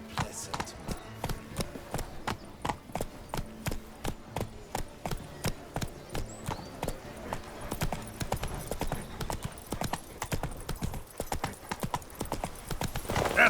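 Roach, a horse in The Witcher 3 video game, clip-clops steadily along with regular close hoofbeats, under game music and ambience, with occasional voices speaking.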